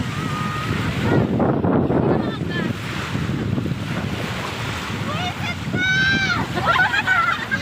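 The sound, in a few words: big ocean waves at Half Moon Beach, Saudi Arabia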